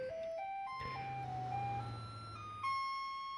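A garbage truck in the city-building game Cities: Skylines 2 plays a chiming, stepped electronic melody like an ice cream van over a low engine drone, steady and close.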